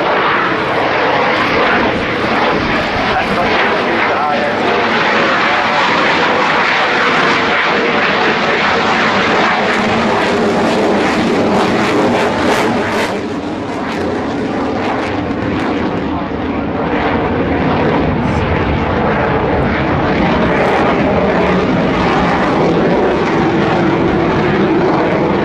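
A French Air Force Dassault Rafale jet flies at the RIAT 2011 airshow, its loud continuous engine roar steady and close for the whole stretch, sweeping slightly as it passes.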